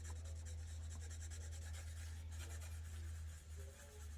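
Light wet sanding across the clear coat of a Pontiac Fiero hood, a continuous soft rubbing rasp with a rhythmic back-and-forth texture over a steady low hum, close and fairly quiet.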